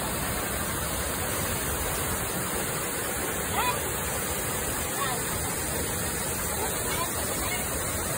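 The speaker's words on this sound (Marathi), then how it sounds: "वरून धबधबा पडतोय" Waterfall pours down from above in a steady broadband rush of falling water, continuous and fairly distant, with faint voices now and then.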